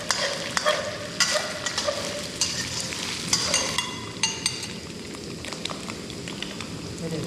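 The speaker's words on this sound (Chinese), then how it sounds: "来点酱，炒一下肉。" Meat being stir-fried with sauce in a pan at a roadside stop in Tibet, crackling sizzle with repeated scraping and clinking stirs of a spatula, close and busy throughout.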